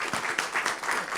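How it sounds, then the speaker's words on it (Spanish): A brief burst of audience clapping at a museum and crafts panel discussion, fairly close and steady, with an uneven patter of hands. "Un aplauso."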